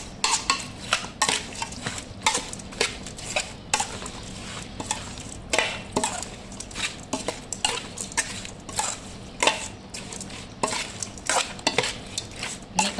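A cooking pot of Thai fish mok is stirred with a utensil in steady repeated scrapes and clinks of metal against the pot, close and fairly loud, with no talking.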